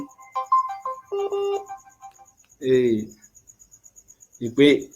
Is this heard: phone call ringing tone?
yes